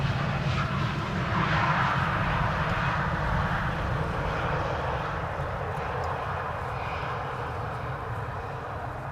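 A KLM airliner at Amsterdam Schiphol Airport produces a steady, loud jet engine roar that holds evenly and fades slightly toward the end, with no talk over it.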